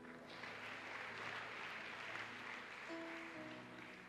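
Church congregation clapping to acclaim Jesus during a Sunday service, dense continuous applause throughout with a brief sustained tone rising near the end.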